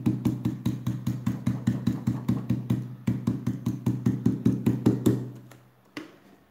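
A stencil brush taps paint onto a decorative planter in quick, steady dabs, a close rhythmic patter of soft knocks that pauses briefly, resumes, then stops near the end.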